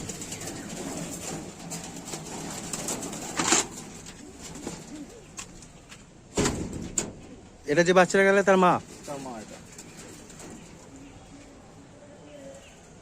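Pigeons, teddy flying birds kept by a fancier in Krishnanagar, Nadia, coo in low throaty bursts, with a louder close run of cooing partway through, while people talk over and between the calls.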